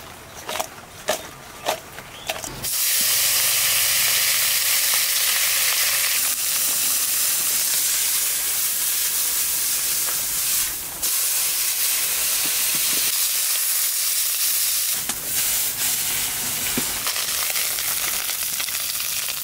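Fish rubbed with salt and turmeric fries in hot oil in a pan, a loud, steady sizzle that erupts after a few clattering taps and keeps hissing without a break.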